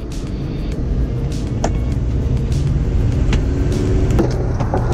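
A 1969 Jeep 4x4 engine held at full throttle while spinning donuts, a steady loud rumble with a broad rough drone and occasional higher rattles and scrapes, continuous throughout with no talking.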